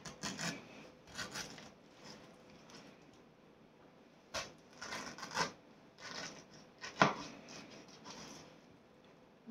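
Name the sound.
knife tip cutting a rectangle into a pineapple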